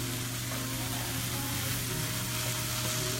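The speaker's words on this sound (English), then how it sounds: "And while that's doing its thing, it's kind of sizzling away" Steady, continuous sizzling of carrots and tofu frying in a hot pan, a close, even crackle with a faint low hum underneath and no talking.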